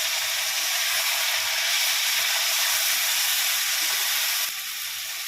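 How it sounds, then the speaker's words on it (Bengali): A paste of ginger, chili and tomato sautés in a pan as spices are cooked down, giving a steady, loud, unbroken hiss from start to finish, with no talking. "মশলাটা কষিয়ে নেব।"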